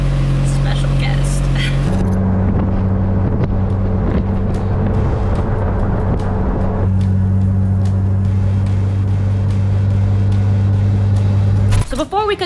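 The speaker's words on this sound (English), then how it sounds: "let me let the car warm up and then we'll hit the road" A car engine idles steadily while warming up, giving a constant low hum that shifts slightly in pitch partway through. Keys jangle briefly at the start, and a clatter comes near the end.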